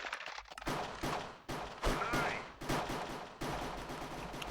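Bursts of video-game gunfire crackle in a Minecraft Counter-Strike mini-game on the De_Aztec map, with repeated sharp shots and rapid fusillades coming in waves, moderately loud.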